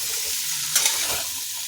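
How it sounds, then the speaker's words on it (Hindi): Potatoes with salt and chili sauté in a pan for dum aloo, giving a steady close sizzle with a short scrape of stirring partway through. "ये देखिए 2 मिनट तक अच्छे से भून लेंगे।"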